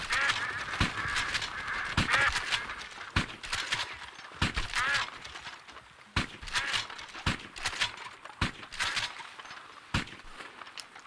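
Ducks quacking in Red Dead Redemption 2 with sharp clicks and impacts scattered irregularly throughout, fairly quiet in the game's outdoor ambience.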